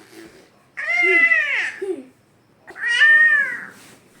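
A cat gives two drawn-out, wavering meows separated by a short pause, close and fairly loud, with a quiet room behind.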